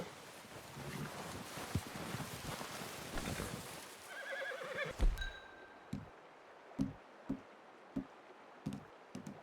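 A horse in the Red Dead Redemption II game gives a short whinny amid faint outdoor wind, followed by a run of soft, separate hoof thuds nearby as it steps about.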